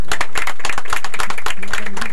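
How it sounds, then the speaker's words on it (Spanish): A crowd at a rodeo festival in Plaza Huincul claps loudly and close by in a short, energetic burst, mixed with voices. "pido un aplauso grande, pero para todos ustedes"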